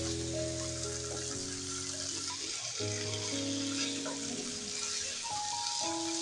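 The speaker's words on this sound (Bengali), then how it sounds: "আলু আর মুরগির মাংসগুলো তো ভাজা আছে, তার জন্য বেশি সময় কষানো লাগবে না।" Fried potatoes and chicken sauté in a pan for a chicken curry, a steady soft sizzle with occasional stirring scrapes throughout, over faint background tones.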